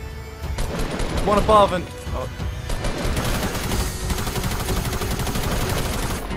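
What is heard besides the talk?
covering gunfire from a video game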